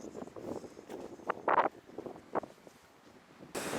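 Gusty wind buffets the microphone on a high smugglers' trail in Tibet, coming in rough bursts and rumbles with a harder blast near the end, no voices.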